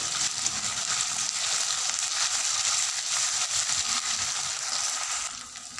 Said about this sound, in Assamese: এতিয়া আমি দিম আদা নহৰুৰ পেষ্ট। এতিয়া আমি এইখিনি লৰাই থাকিম।